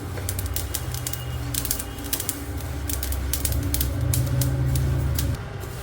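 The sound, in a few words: flaxseeds crackling while roasting in a pan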